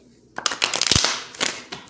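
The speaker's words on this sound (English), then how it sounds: "last little shuffle for Aquarius" A brief riffle of tarot cards being shuffled, a quick run of papery flicks and taps lasting about a second and a half, close and clear.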